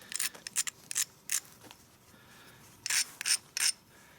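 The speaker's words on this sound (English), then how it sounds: "So I take my grindstone, and I really give it some grinding." Grindstone scraping along the edge of a flint slab during knapping, in short rasping bursts: a cluster of quick strokes early on, then a pause, then three louder, longer grinds near the end.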